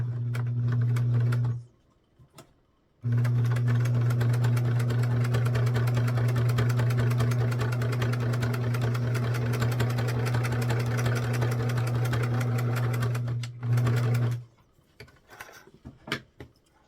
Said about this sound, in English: I'm just going to sew it just because I'm being lazy.